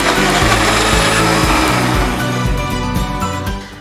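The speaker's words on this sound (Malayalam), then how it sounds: "ഇനി ഇത് നമുക്ക് നന്നായിട്ടൊന്ന് ബ്ലെൻഡ് ചെയ്ത് അരച്ചെടുക്കാം." A kitchen blender runs loud and steady, blending pineapple and aloe vera into a smoothie, with a rhythmic churning pulse as the contents cycle, easing off slightly near the end.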